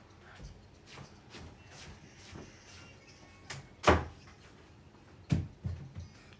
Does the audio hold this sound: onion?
no